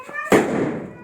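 A Diwali firecracker goes off in a village: one sudden loud bang with a noisy blast that decays over about a second. It comes after a brief quiet stretch of faint background.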